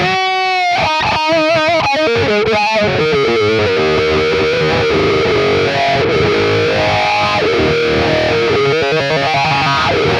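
An electric guitar through a Quad Cortex wah effect swept by an expression pedal, loud and heavily distorted, with chords and single notes whose tone sweeps audibly up and down, no talking.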